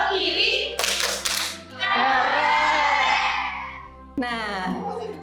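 A school class does a short rhythmic group clap: a quick, close burst of claps, then voices talking and calling out in the classroom.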